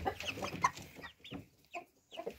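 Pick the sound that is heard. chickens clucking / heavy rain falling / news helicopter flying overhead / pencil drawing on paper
chickens clucking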